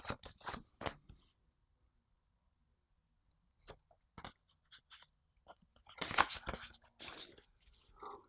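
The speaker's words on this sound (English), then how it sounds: "So I'll shuffle these up." A deck of Slay the Spire board game cards is shuffled in short bursts of crisp riffling and sliding, with a quiet pause in the middle, close and fairly soft.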